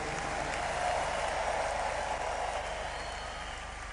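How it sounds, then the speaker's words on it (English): A church congregation claps and cheers in praise, a steady, dense wash of applause and crowd noise filling the whole stretch at moderate distance, with no pauses. "Can we give the Lord a big clap and a shout of praise?"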